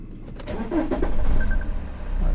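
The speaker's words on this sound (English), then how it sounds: "I'll turn this thing back on" A BMW 520d with an M47 diesel engine that has been stalling and idling rough cranks and fires up, settling into a loud, steady low diesel rumble close by with no talk.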